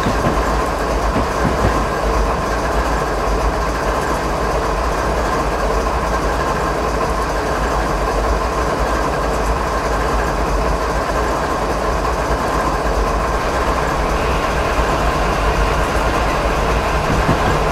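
Steady rumble of a train running along the track in a train simulator game, with continuous rolling clatter and engine drone, fairly loud and unbroken, no voices.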